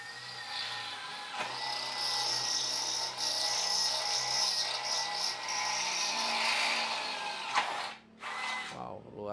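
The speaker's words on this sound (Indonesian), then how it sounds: "kita akan coba di mata bor 10 mili" A power drill with a 10 mm bit whines steadily with a high, harmonic pitch as it bores through a hollow 4x6 steel tube of 1.2 mm wall, running continuously for several seconds before slowing and stopping near the end.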